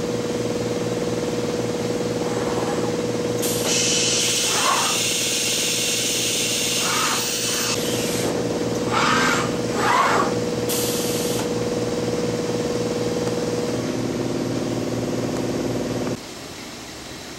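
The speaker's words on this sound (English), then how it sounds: "now we're going to watch it do a tool change and go pick up a tool." An SCM Routech Record 132 TVN Prisma CNC machining centre runs through a tool change: a steady mechanical hum with bursts of pneumatic hiss and clunks, then a sudden drop to a quieter drone near the end.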